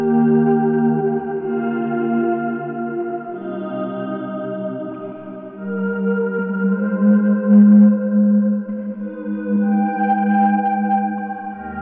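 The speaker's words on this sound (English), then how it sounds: "Right now I have a swell patch pulled up," A guitar swell patch played through a Strymon Big Sky reverb pedal, with loud, sustained chords that fade in smoothly and bloom into long, shimmering washes layered over each other, and no voices.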